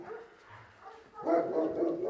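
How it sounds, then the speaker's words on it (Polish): Several dogs bark and yip at an animal shelter, with short scattered barks at first that build into a louder, denser burst of overlapping barking near the end. "To pieski."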